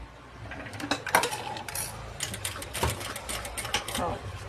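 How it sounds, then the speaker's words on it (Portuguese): A sewing machine runs in short bursts, stitching a zipper into fabric, with rapid mechanical clatter rising and pausing close by while a voice talks over it. "a gente vai fazendo a costura toda a volta"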